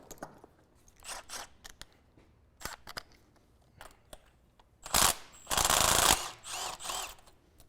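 A ratchet loosens a spark plug from an engine that cranks but won't start, with short bursts of quick mechanical clicking. A louder, longer run of clicks comes near the end, heard close and without speech.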